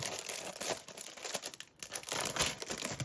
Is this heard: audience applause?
no